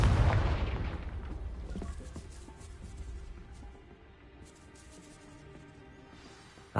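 A Confringo blasting spell bursts in Hogwarts Legacy: one loud, close explosion with a heavy low-end thump, rolling away into a long, fading rumble with no other sound over it.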